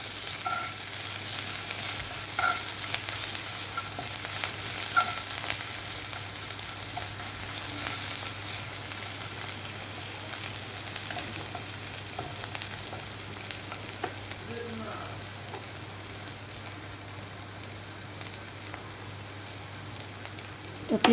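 Onions frying in a pan for a vegetarian niramish mangsho dish, with a steady low sizzle and faint intermittent stirring scrapes throughout, no voices.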